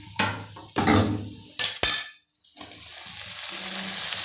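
Tomatoes sizzling and frying in a pan for a bitter gourd (kovakkai) masala, with a few stirring and scraping sounds, close up, with no voices.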